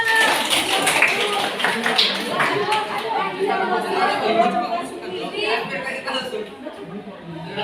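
An audience claps through a school folk-tale art performance, a steady wash of applause mixed with chatter and scattered voices that holds at an even level throughout.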